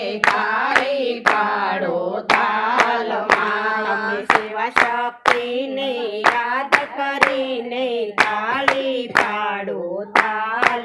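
Hands clap in a steady rhythm through a devotional Shiva-Shakti bhajan, loud sharp claps landing on the beat over sung melody.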